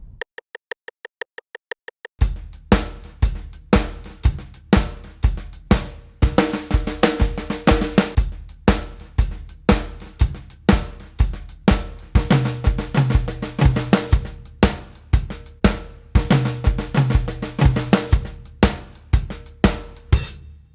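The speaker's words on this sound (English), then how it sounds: "let's take this exercise, put it on the kit and see what it sounds like" A click track counts in, then a drum kit plays steady grooves broken by quick triplet tom and snare fills, loud and close, with cymbal accents.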